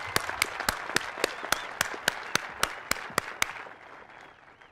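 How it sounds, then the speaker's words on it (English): A crowd at a tennis Hall of Fame induction ceremony gives a burst of applause, with sharp, evenly spaced claps standing out near the mic as the clapping tapers off toward the end. "let's give her applause"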